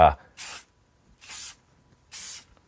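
Three short bursts of acrylic spray paint from an aerosol can dusting tabletop terrain, each a steady hiss of about a quarter second, evenly spaced with silence between, following a brief thump at the start.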